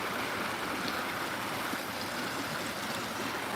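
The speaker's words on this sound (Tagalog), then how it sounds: "dito sa mga malalaking agos na to" Fast-flowing stream current rushing over rocks in a river used for net fishing, a steady broadband roar of churning water that runs unbroken and fairly close throughout.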